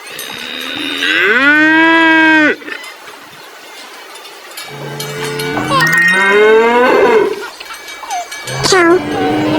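A cow lets out two loud, drawn-out moos close by, the first rising and holding before cutting off, the second longer and wavering, followed by a short tail.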